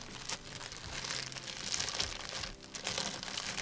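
Plastic film stripped off a box during an unboxing, crisp crinkling and rustling close to the mic, with bursts of crackle through the clip.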